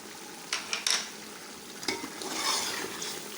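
Ginger paste is stirred into beef palao frying in a pot, giving a steady sizzle with spoon scrapes and clinks against the metal and a swell of frying toward the end.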